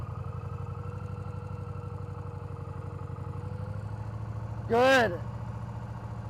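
A motorcycle engine turns over at low throttle on level ground, a steady, even idle-like rumble throughout, with a brief spoken word from a nearby voice toward the end.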